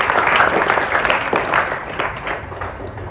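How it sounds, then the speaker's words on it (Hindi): Children clap for themselves in a burst of loud, lively applause that gradually thins and fades over a few seconds. "एक बार फिर ताली बजाओ अपने लिए"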